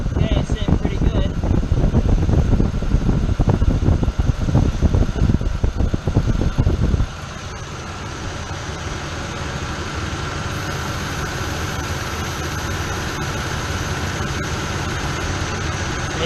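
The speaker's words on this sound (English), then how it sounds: "the compressor's not kicking on as much already, just with me adding a little bit in" Ford F150 engine idling with the AC compressor cycling, a loud rough mechanical churn that abruptly drops to a steadier, quieter hum and fan whir partway through.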